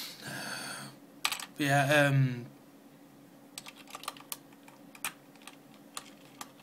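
Light, scattered key clicks tap out on a computer keyboard being fixed, following a few words from a nearby speaker and continuing quietly in an uneven rhythm.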